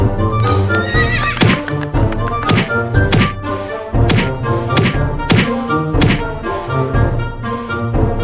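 Horse in Red Dead Redemption 2 neighing and kicking a man, loud repeated whinnies over heavy thuds and hoof knocks in a busy rhythmic sequence.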